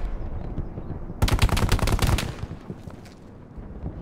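A Browning machine gun rattles off a rapid, loud burst of automatic fire lasting about a second in the WW2 shooter Hell Let Loose, then fades to a low battlefield rumble.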